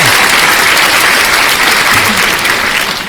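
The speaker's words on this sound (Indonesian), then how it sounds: "Tepuk tangan buat Bang Daman." A crowd at a religious lecture claps loudly and steadily, a thick, continuous patter of many hands filling the whole moment before tapering slightly at the close.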